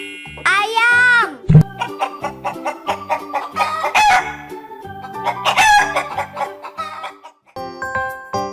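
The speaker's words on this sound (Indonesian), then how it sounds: "Ayam." A rooster crows loudly and clearly, then hens cluck in a busy, irregular run. A second crow rises midway through, followed by more scattered clucking and a faint jingling near the end.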